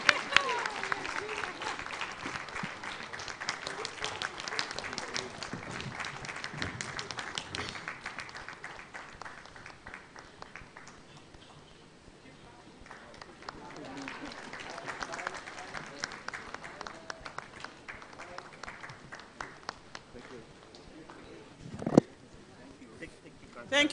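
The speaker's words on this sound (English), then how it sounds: "Keep clapping, keep clapping." An audience claps at a county executive committee induction session. The clapping is fairly quiet and spread out, with people talking over it and a few louder knocks near the end.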